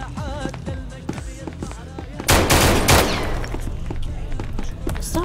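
Gunfire rattles through the SCP video game, with quick single shots and then a loud, dense burst of automatic fire in the middle, while players talk over it.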